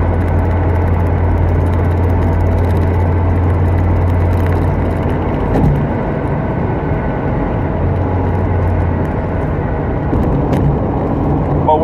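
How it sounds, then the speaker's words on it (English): Continuous low road rumble and engine hum come from inside a car weaving through traffic, steady throughout with a faint bump midway and occasional soft talk. "Excuse me as I'm weaving through traffic"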